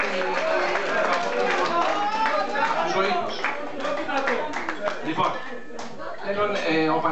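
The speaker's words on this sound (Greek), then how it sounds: "Ένα χειροκρότημα για τα παιδιά" A gathering's audience claps for the children at a Greek community reunion event, a busy mix of hand claps and crowd chatter running continuously.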